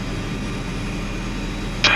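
Steady, loud engine roar from a helicopter being run again after ten years abandoned, a constant broadband drone with no change in pitch, briefly joined by a short higher hiss at the end.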